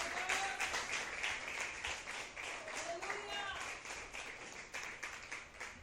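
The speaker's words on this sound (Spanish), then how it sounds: "Puede darle un aplauso al Señor en esta noche." Congregation applause during a church service at night: continuous crowd clapping mixed with overlapping voices and cheers, fairly even in level throughout.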